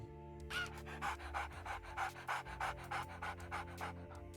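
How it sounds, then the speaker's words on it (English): A robot companion in the game Prospector makes dog sounds, a rapid run of rhythmic panting breaths, close and clear, over a quiet game-music background. "He makes dog sounds."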